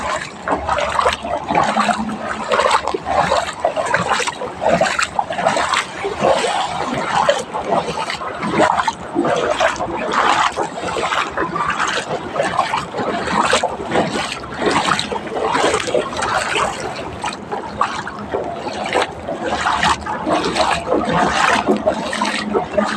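Legs wading through flood water in a flooded neighbourhood, continuous sloshing and splashing in rapid rhythmic strokes, loud and close, with a voice talking at times over the churning water.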